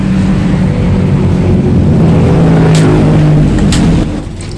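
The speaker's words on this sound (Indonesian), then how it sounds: "Tapi motor ini bisa hidup dengan engkolan." An automatic motor scooter's engine runs after being kick-started, a loud, close, steady hum that holds for a few seconds and then drops off in level near the end.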